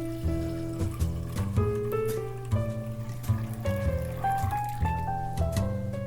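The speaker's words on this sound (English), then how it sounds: "pour water into the pot" Water pours steadily into a cooking pot for pasta, a continuous close trickle whose pitch rises as the pot fills, with light clinks and soft background music underneath.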